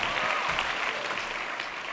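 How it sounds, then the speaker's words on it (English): Audience applause at a talk, a brief, even burst of many hands clapping together, fairly close and continuous from start to finish. "How about a round of applause?"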